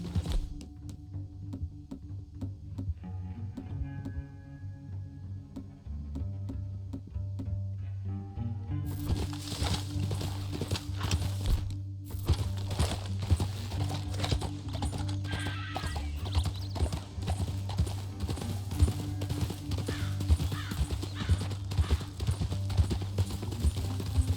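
Horse hooves clip-clop steadily in Red Dead Redemption 2. A low ambient hum runs underneath and grows fuller partway through as the rhythm continues unbroken.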